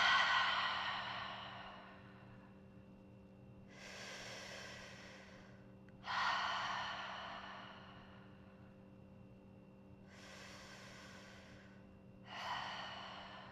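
Heavy breaths during a yoga cool-down while lying in a reclined bound-angle pose, four long airy exhales spaced a few seconds apart, close and moderately loud over a steady low hum.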